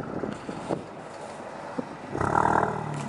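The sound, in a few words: car engine revving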